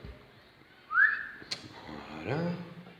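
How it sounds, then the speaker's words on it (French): A person whistles close to a microphone, giving one short, sharp rising whistle note, followed by a brief click and a low voiced sound. "j'aurais pas dû siffler dans le micro"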